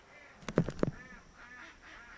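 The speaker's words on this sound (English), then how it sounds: "The ducks are freaking out." A few loud honking quacks from ducks by a barn burst out close together, followed by fainter, distant calls.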